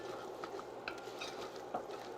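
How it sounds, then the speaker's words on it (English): Garlic and ginger sautéing in a pan for butter chicken, a soft steady sizzle with a few light scraping stirs, close and moderately quiet, no voices. "Saute a little bit."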